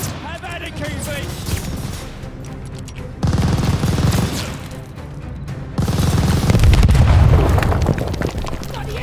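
Grenade blast on a machine gun nest amid a World War II battle in Call of Duty: Vanguard, loud booms and bursts of gunfire rolling over sustained combat noise, with soldiers shouting over the chaos.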